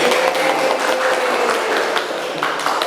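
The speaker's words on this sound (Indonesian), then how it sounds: "ya tepuk tangan dulu tuh Pak Dasono" Participants in a teachers' positive-culture dissemination session clap hands for Pak Dasono, a dense, steady patter of many hands filling the room at moderate loudness with no voices over it.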